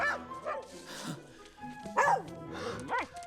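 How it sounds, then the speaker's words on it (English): Snowy, a small white wire fox terrier in a Tintin film scene, barks loudly and yips in several sharp bursts with whimpering between them, close and dominant, set against a faint background. "Snowy makes his heroic entrance and stares down the dog and barks so loudly he barks him into submission"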